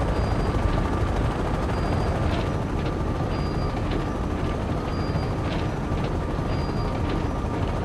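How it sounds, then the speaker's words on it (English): Helicopters fly in the video game Act of War: Direct Action, their steady rotor thrum and roar holding throughout the clip beneath faint repeating tones, with no talk. "there are helicopters flying in the direction of the base"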